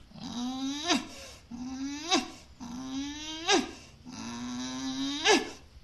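A dog growls in an audio drama, giving four breathy, wheezing growls in a steady rhythm. Each growl rises in pitch and ends in a sharp catch, close and moderately loud.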